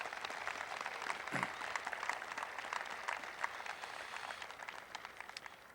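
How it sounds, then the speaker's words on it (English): Applause from an audience at a 2013 high school graduation ceremony, a fairly quiet, steady patter of many hands clapping that continues throughout and fades a little toward the end. "So let's give them a round of applause."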